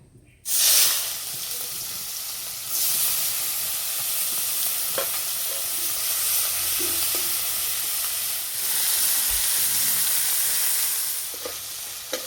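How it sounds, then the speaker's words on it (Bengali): Fish fries in mustard oil in a wok with a loud, steady sizzling hiss that surges a few times, broken by occasional light clinks of a utensil. "কড়াই দেব সর্ষের তেল, মাছগুলো ভেজে নেব"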